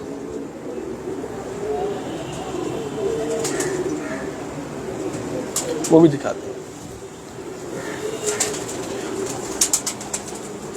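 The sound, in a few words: Rampuri pigeons cooing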